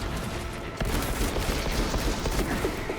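Dense gunfire in a Warhammer 40K video game battle against Tyranids, a continuous loud barrage of rapid shots and bursts that thickens partway through, no speech.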